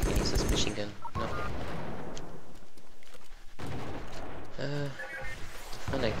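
Machine gun fire in the military shooter game Joint Operations: Typhoon Rising, heard as dense rattling bursts at the start and again later, with a voice speaking between them.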